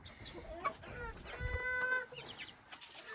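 Young Maran chickens cluck nearby, with one drawn-out, crowing-like call in the middle and scattered short clucks around it.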